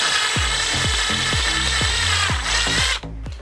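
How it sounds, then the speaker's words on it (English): Power drill cleaning epoxy out of a golf club hosel, a series of short repeated whirring bursts at a steady rhythm, close and loud, stopping near the end. "I take the drill, go back at it again."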